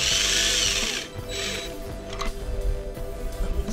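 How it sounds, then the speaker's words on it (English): A power driver whirs in short bursts while tightening screws on a light fixture, a high buzzing spin up close followed by clicks and small mechanical rattles, no talking. "I'm gonna tighten these screws."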